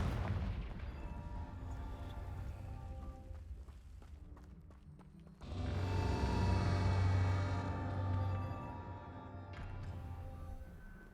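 A Confringo fire spell explodes in Hogwarts Legacy, a sudden booming blast swelling into a loud, sustained low rumble against ongoing game ambience, with a second smaller burst near the end.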